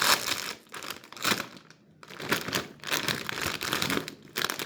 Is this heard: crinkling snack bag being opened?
yes